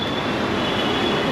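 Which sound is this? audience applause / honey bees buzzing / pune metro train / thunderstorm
pune metro train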